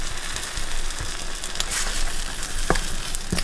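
Cheesy food fries in a pan with a steady, moderately loud sizzle and crackle, broken by a few sharp clicks and scrapes from the utensils.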